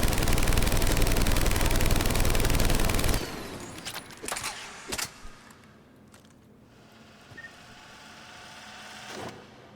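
Typhoon assault rifle from Mass Effect 3 firing a long, loud, continuous automatic stream at a target range, then stopping abruptly, followed by a few faint clicks and mechanical clatters in near quiet.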